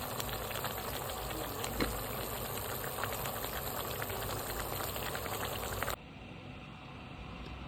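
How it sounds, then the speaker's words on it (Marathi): Continuous bubbling of a pot of egg curry boiling close by, a dense rumbling burble that drops quieter near the end. "एक दोन मिनटं याला उकळून घेऊया"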